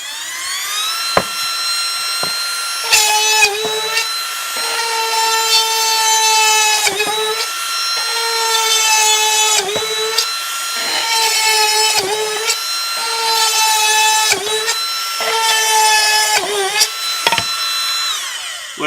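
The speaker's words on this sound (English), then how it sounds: "let's try drilling into this guy right now so you guys can see how it performs" An Apexforge 12V cordless rotary tool drills into thin wood with a high, whining motor that starts and stops in repeated short bursts, loud and close.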